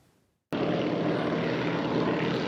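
Small propeller airplanes at an aviation fly-in in Oologah, Oklahoma, one engine droning loud and close as it starts abruptly after a brief quiet moment and holds a steady, dense roar.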